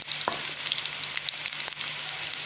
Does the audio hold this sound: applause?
no